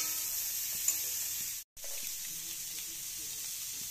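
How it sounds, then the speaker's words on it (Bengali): Cut vegetables fry in a pan as they are stirred, a fairly quiet steady sizzle with soft scraping, briefly cutting out for a moment midway. "ভালো করে নেড়ে চেড়ে নিচ্ছি।"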